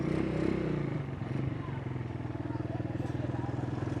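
A Mojo 200 200cc motorcycle engine running close by, a steady low pulsing putter with a rapid even firing rhythm and faint clatter.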